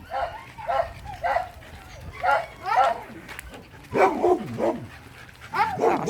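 Small dogs bark at a dog park in a series of sharp, close yips and barks that come in uneven clusters, with some whining between them.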